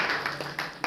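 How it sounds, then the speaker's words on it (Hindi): Several people clap their hands together in short bursts, fairly close and loud, with a few distinct claps in under a second. "बजाइए ताली वही वाली।"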